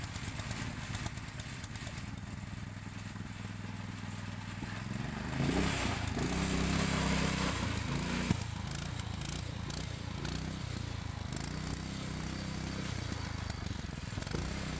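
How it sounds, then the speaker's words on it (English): A small go-kart engine idles steadily after a carburetor cleaning, a rough mid-pitched putter that rises briefly in revs around the middle before settling back to idle, with no talking over it. "I just want to see the engine running and idling."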